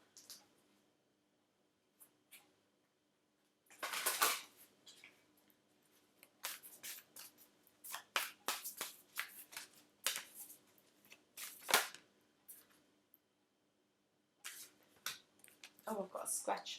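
Tarot cards are shuffled by hand in quick, irregular bursts of crisp riffling and flicking, close and fairly quiet, separated by short silent pauses.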